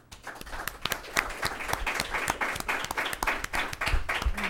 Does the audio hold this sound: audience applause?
yes